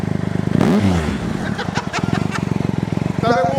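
A Triumph Explorer motorcycle with an upgraded exhaust idles with a loud, throbbing exhaust pulse, briefly blipping the revs, while a voice talks over it nearby.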